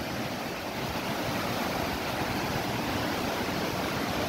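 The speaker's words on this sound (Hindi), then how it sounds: "जब हम दिलीप भाई के पास रहते थे तो हम यहाँ आते थे नहाने इस झरने में" A waterfall used as a bathing spot on a mountain trek roars in a steady, dense rush of falling water, loud and unbroken throughout with no voices.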